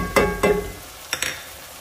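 Garlic sautés in a pan for carne guisada, with two quick, loud stirring scrapes over a soft sizzle, then two lighter clinks before the frying settles.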